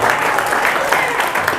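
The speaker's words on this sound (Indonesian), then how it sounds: "kita beri tepuk tangan" Applause from the audience at a school anti-bullying seminar in Indonesia, a brief, steady patter of clapping.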